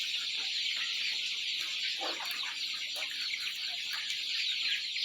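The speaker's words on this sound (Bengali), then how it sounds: "মুরগিগুলো খুব সুন্দর উঠতেছে।" Brown cock chickens on a poultry farm house cluck softly in a few brief calls over a constant bright hiss of farm background noise, with no one talking.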